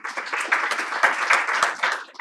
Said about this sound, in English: We should really applaud her.